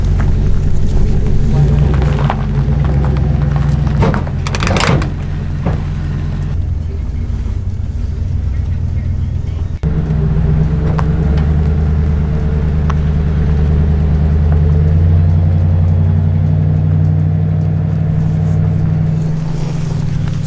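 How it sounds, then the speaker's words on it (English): A truck engine flat towing a Dodge: a steady, heavy low rumble that runs throughout with slight shifts in pitch, loud and close, with bumps and knocks over it. "Oh, you're just dragging the truck."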